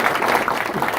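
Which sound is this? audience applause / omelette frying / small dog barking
audience applause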